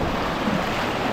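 Steady roar of ocean surf washing in at Zambales, broad and close, with wind buffeting the microphone and no voices.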